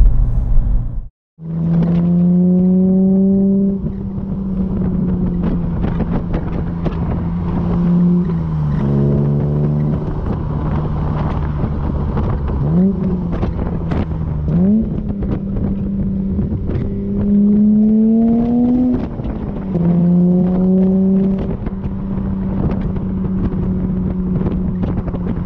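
A smooth BMW E30 engine hums steadily from inside the moving car, its pitch rising and dipping gently through light throttle and gear changes, with a brief cut near the start.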